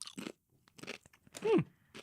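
Crunchy corn chips being bitten and chewed up close, a few sharp crackling crunches in quick bursts with a brief mouth sound near the end, no talking.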